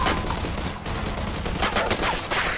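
Rapid gunfire from a shootout in Mafia II, dense bursts of overlapping shots and automatic fire cracking continuously at close range for a few seconds.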